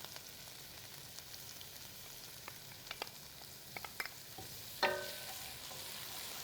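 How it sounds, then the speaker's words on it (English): Minced garlic and onions cook in hot oil in a pan, with a faint sizzle, sparse utensil clicks and a brief louder sizzling burst as the garlic goes in. "Once I have my onions going, these are looking pretty good. I'm going to add some minced garlic."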